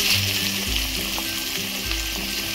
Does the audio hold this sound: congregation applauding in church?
no